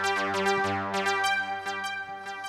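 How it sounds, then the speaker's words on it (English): A small synth arpeggiator with light filtering cycles through quick repeating notes, each with a sweeping filtered tone, bright and steady and heard alone. "So it's just a small arpeggiator."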